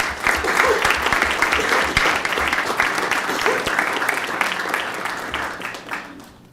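A room at a school district governing board meeting breaks into sustained applause for the child nutrition team, dense overlapping clapping that holds steady for several seconds before tapering off, with a faint voice underneath.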